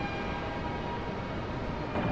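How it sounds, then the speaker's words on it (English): An elevated train in Portland, Liberty City, from the game GTA III, rumbles steadily and close by, a continuous rolling roar of rail wagons with no voices over it. "Claude Speed rode the elevated train in Portland."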